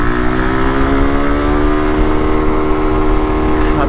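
A Suzuki Gixxer motorcycle engine pulls steadily in third gear, a loud continuous droning hum with layered harmonic tones that shift gradually as it accelerates, with no talk over it.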